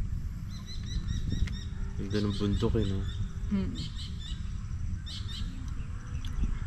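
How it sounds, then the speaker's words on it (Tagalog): Many birds calling in the mountains at dusk, with repeated close chirps, trills and tweets over a low rumbling background while someone speaks briefly. "Ang dami ibon."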